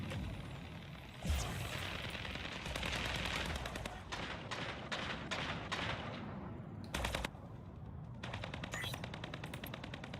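Rapid machine-gun fire from the Berserker 16 in a video game, sustained bursts with short gaps, fairly close and loud throughout.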